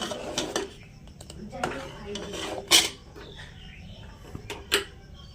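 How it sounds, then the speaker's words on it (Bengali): Milk stirred into caramel in a metal pot, with a utensil clinking and scraping against the sides in scattered, uneven strokes. The sounds are close and moderately faint, and a few sharper knocks stand out. "এবার দুধটা ওর সাথে"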